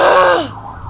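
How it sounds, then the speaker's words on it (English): A passing ambulance siren, a loud wailing tone sweeping down in pitch and fading quickly as the vehicle moves away within about a second. "Oh, there's an ambulance."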